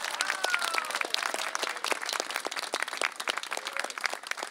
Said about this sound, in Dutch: Een groot applaus.